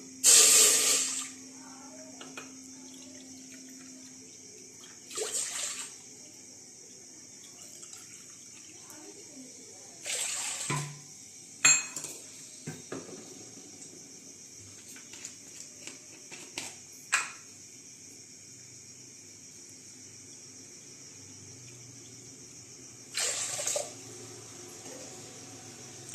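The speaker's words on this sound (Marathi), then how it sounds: "त्याच वाटेने चार वाटी पाणी घेते मी" Water splashes and pours in several short, loud bursts into a pot, separated by quieter stretches with a low steady hiss.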